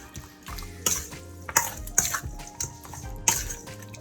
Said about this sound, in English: I'm gonna go ahead and use my spoon and mix this up.